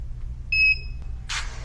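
A Braille Me braille display gives a short electronic beep, a clean tone with a faint overtone lasting about a quarter second, then a brief burst of soft buzzing noise as its dots raise, over a quiet low hum.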